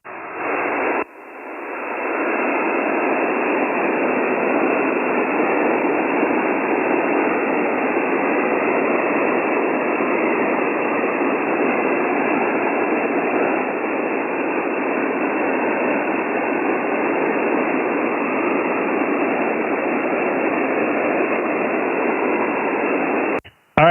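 Steady, loud band-limited hiss of ham radio static on the 20-meter band from an Icom HF transceiver, starting abruptly and running unbroken for over twenty seconds before cutting off, with no voice.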